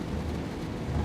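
Rain and thunder in the train driving game Train Sim World 2, a dense steady roar of rainfall with a low rumbling thunder underneath, loud and continuous for the whole second without any voices.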